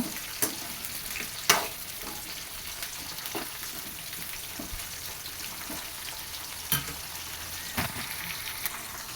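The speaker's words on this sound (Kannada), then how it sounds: "ನೋಡಿ ಬೆಂಡೆಕಾಯಿ ಉದ್ದುದ್ದು ಕಟ್ ಮಾಡಿ ಇಟ್ಕೊಂಡಿದ್ದಲ್ಲ ಅದನ್ನು ಹಾಕ್ಕೊತಾ ಇದ್ದೀನಿ. ಇದು ಎಲ್ಲ ಫ್ರೈ ಮಾಡ್ಕೊಬೇಕು." Long-cut okra (ladies' finger) frying in oil in a pan, a soft steady sizzle with a few sharp stirring clicks now and then, fairly quiet.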